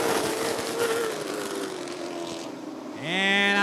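Late model race cars at Rockford Speedway roar off at the green flag, a pack of engines droning and whining past, fading, then one car's rising whine swelling up close at the end.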